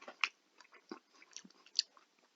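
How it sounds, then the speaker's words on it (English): Someone chews a bite of juicy coleslaw close to the mic, with soft crunching bites and moist mastication sounds coming in quiet, irregular bursts. "Take another bite of this coleslaw."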